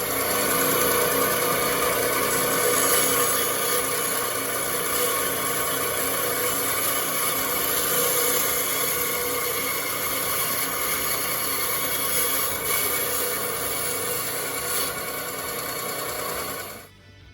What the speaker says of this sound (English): now take the bandsaw and cut this end off again